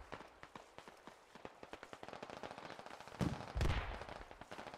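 Sustained covering gunfire in the Squad military shooter, a steady rhythm of sharp shots repeating throughout, building to a couple of louder blasts near the end.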